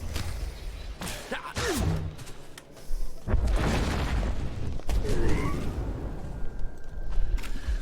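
Enemies open fire in the Star Wars: The Old Republic video game, with dense booming blasts, bursts and pops in a loud continuous stretch of combat sound.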